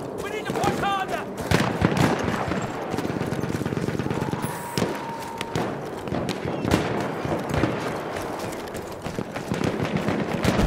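Sustained machine gun fire in a Battlefield 1 battle scene, dense bursts of rapid shots layered with explosions and general combat noise, with voices shouting over the din.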